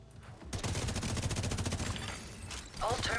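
Rapid turret gunfire from a video game, a dense, loud fusillade of repeated shots holding steady for a few seconds before a brief dip and another burst.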